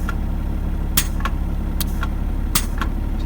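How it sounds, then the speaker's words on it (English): Short sharp pneumatic air hisses and ticks from a semi truck's air-powered window and transmission range shifter, several brief bursts over a steady idling diesel engine rumble close by. "So you can hear a little air noise"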